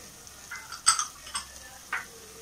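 Spices, coriander powder and masala for chicken biryani are stirred in a pressure-cooker pan, giving a soft sizzle with several scraping strokes of a spoon against the pan, near and clear, with no talk.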